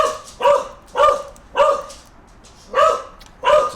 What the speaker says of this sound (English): Just mute the dog out for a second.